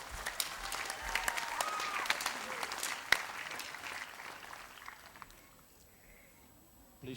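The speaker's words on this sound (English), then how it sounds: "Let's give a round of applause for Chief Alofa." Audience at a Samoan fiafia show in Hawaii applauds a local chief, a moderate wash of clapping with a sharp single clap spike, fading toward the end.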